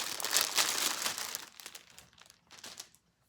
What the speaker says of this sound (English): Let me take it out of the bag.